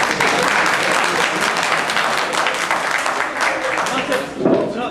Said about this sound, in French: Je pense que c'est bien d'applaudir